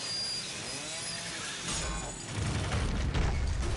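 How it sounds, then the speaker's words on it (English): Chainsaw in The Evil Within video game, a dense mechanical roar building and growing louder in the second half, with grinding, clattering texture. "that chainsaw's gonna break."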